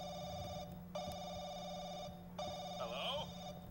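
A telephone rings repeatedly inside a video game, steady electronic ring bursts with short pauses between them, moderately loud against a quiet background with no one talking.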